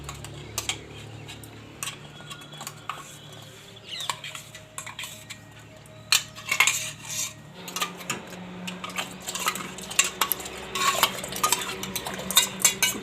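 Dates stirred into boiling milk in a pot on a lowered gas flame for date milk, with steady bubbling under repeated spoon scrapes and metallic clinks against the pot rim, close by.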